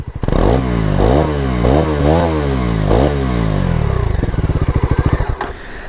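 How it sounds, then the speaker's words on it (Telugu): Bajaj Pulsar NS400 motorcycle exhaust, loud and close, revved repeatedly in several sharp throttle blips before settling into a lumpy, pulsing idle that fades out. "సైలెన్సర్ సౌండ్ కూడా మ్యాడ్ ఉంది అసలు"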